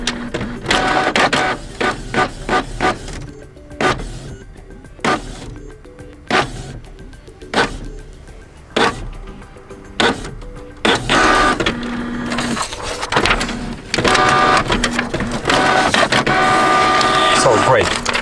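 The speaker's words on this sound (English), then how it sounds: "choose here print LAN details and click yes" A Canon Pixma MG5750 inkjet printer prints a LAN details page, with repeated mechanical bursts and clicks of the feed and print head that become a steadier whirring run toward the end, close by, while a person talks now and then.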